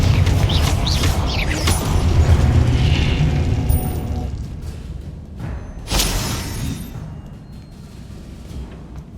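A blasting spell from the Hogwarts Legacy video game goes off in loud booming bursts, a heavy rumble early on and a sharp explosive crack near the middle, with debris-like clatter trailing off.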